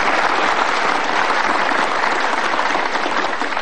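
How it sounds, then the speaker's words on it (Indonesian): A studio audience on a motivational talk show applauds for a guest named Laura, loud dense clapping from many hands that holds steady throughout without any speech. "tepuk tangan sekali lagi dong buat Laura"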